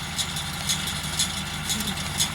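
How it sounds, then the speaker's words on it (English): A farm tractor hauling hay runs steadily nearby, a low rumbling idle-like drone with faint rhythmic knocking and no voices over it. "So a hydraulic hose busted on the tractor that Charles is hauling the hay to the shed"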